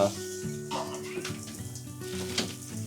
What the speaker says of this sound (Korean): 그럼 물로 이제 내리면 돼요.